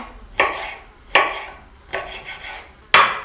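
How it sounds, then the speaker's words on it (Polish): A knife slices a piece of fruit into smaller chunks for homemade summer ice cream, with four distinct crisp cutting strokes at an uneven rhythm, close and fairly clear with no talk. "Możemy go jeszcze pokroić na mniejsze kawałeczki"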